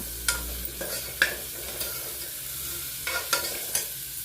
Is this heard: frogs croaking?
no